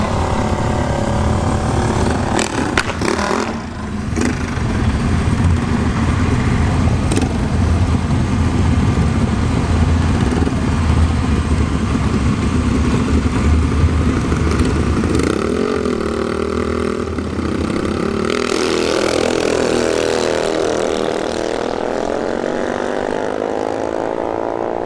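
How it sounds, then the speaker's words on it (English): Two mini bikes drag racing at a dragstrip, their small engines droning loudly and continuously with rising and falling revs, under the steady din of the track. "we got the two mini bikes coming up"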